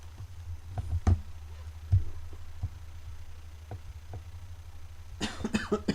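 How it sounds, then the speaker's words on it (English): A character coughs in the video game Night in the Woods, a few short dry bursts over a steady low hum, followed by a rougher cluster of noise near the end. "Cough."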